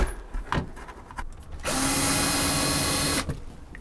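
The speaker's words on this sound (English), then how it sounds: "I'm going to set my torque setting way low so I don't bust through and strip out any screws" A power drill on a low torque setting drives a screw while fitting an RV air conditioner silencer, giving one steady, loud whir of about a second and a half after a few quieter knocks and handling noises.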